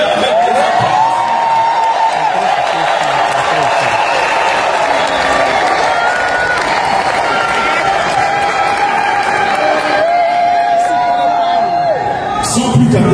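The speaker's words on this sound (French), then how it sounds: "Manifestez-le avec les applaudissements." Sustained, loud applause from a crowd at a Congolese diaspora rally in Brussels opposing President Félix Tshisekedi, dense clapping mixed with cheering, whoops and voices throughout.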